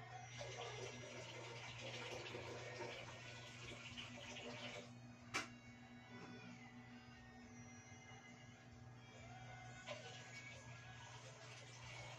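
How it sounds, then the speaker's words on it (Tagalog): Hot water pours into a baby's bath tub, a steady, fairly soft rushing stream that continues throughout, with one brief sharp knock partway through and no speech. "Lagyan natin mainit na tubig yung kanyang pampaligo."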